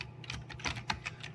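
A computer keyboard is typed on at close range in a quick burst of light, crisp key clicks entering a command, with no talking.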